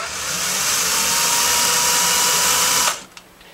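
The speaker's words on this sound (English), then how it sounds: "I only need to drill the end of that off of each one of those." A loud, steady whine of an electric drill grinding continuously into metal guitar pickup parts, then cutting off abruptly near the end, followed by a faint click.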